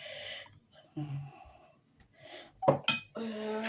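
A spoon stirring pistachio spread in a bowl gives a few soft scrapes and light clinks against the dish, quiet and intermittent, with breathy sounds in between.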